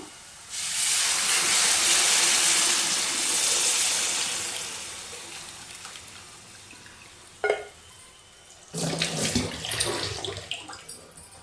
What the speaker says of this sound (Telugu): చింతపండు పులుసును అయితే పోసుకుందాం